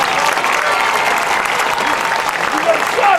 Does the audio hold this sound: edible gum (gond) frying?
no